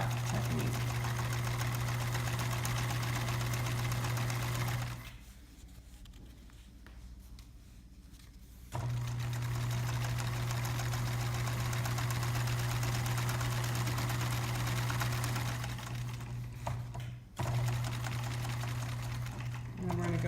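A sewing machine with a size 14 needle stitches a fabric backpack strap in a steady, close hum, pausing briefly twice before picking up again.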